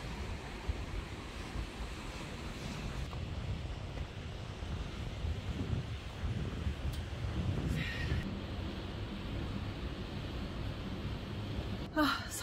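Outdoor wind buffets the microphone on a coastal walk in Korea, a steady low rumble with rushing gusts throughout. A brief sharp rustle comes near the end.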